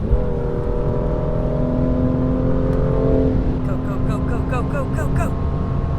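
A car at about 150–160 km/h accelerates hard on the German Autobahn, its engine rising in a strained drone, then shifting upward through quick repeated revs as speed climbs, with steady road and wind roar throughout.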